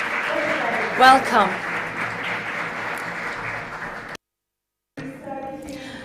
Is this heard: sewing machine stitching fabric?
no